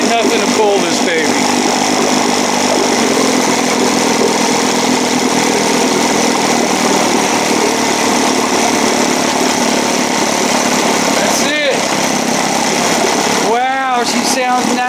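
An Evinrude 7.5 outboard motor runs steadily at a constant, buzzing pitch, loud and close throughout, with a couple of brief changes in the engine note near the end.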